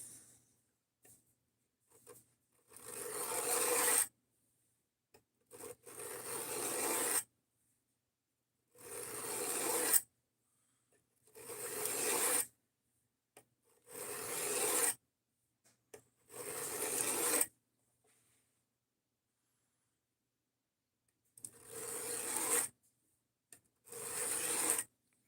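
A knife is sharpened through successive sanding grits, making repeated close rasping strokes. About nine scraping passes come in irregular bursts of a second or two, separated by near silence.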